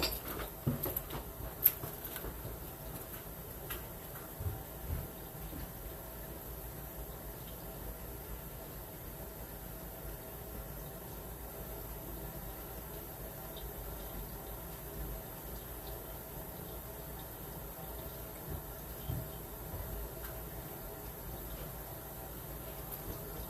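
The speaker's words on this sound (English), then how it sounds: "the only sink I got running is the sink next to me" Water runs steadily from a sink tap beside a drain, a constant faint hiss with light patter and occasional small splashes, no voices.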